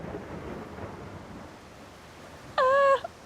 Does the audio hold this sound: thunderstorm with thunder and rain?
yes